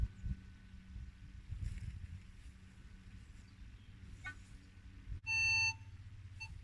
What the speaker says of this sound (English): You get to know the different sounds of the signal as well.